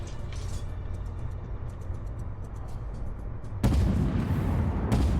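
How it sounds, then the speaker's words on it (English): In Armored Warfare, a tank cannon fires at a T-72A, a sudden loud blast near the end that jumps out of a steady rumbling engine drone, followed by a second sharp shot. "we're going to shoot the T-72A and get a penetrating hit"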